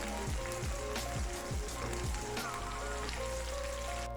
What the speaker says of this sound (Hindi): यहाँ पे सब्ज़ मिर्चों को 5 मिनट के लिए ऑयल में अच्छी तरह फ्राई करना है